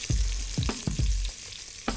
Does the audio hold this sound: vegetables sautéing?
yes